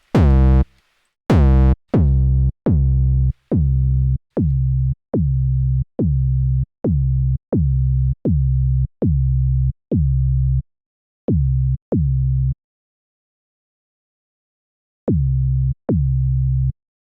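A deep synthesized 808 kick bass, made with Serum in FL Studio 20.9, plays in a steady repeating rhythm, each boomy note decaying, with a pause before two final hits.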